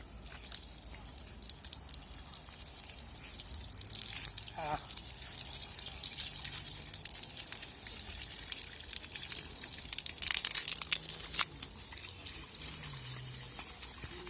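Warm pond water pours onto grapevines in a garden, a soft continuous trickle and splash running steadily at low level, with faint outdoor background and occasional brief brighter splashes.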